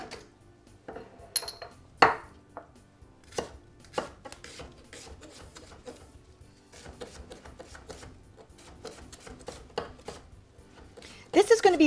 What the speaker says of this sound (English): I need to chop an onion